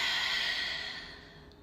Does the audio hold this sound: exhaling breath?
yes